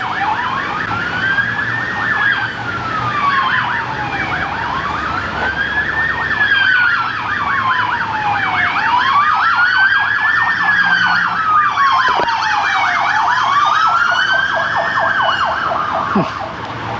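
A state trooper's police car siren wails past in repeated rising and falling sweeps, loud and steady over road traffic noise, with no talk.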